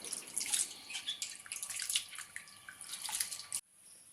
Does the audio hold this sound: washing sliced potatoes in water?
yes